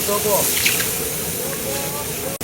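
Water gushes from a jetmatic hand pump, a steady splashing hiss of flow close by, with a voice briefly talking over it and a sharp knock at the end.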